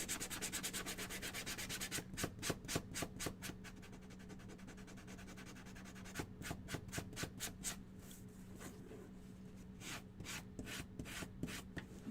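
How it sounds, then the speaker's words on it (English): Hand sanding the hat brim of a small DIY duck figure from a kit, a series of quick, close, rhythmic scratchy strokes in bursts with short pauses, no talking. "Again, sanding is optional."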